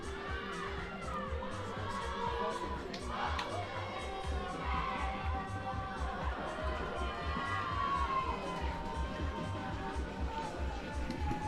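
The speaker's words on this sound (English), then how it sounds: "as we see the fans braving the elements to cheer on their teams" Fans at an outdoor fistball match cheer and chatter in a continuous, distant crowd roar, with voices rising and falling over a rumbling, wind-buffeted background.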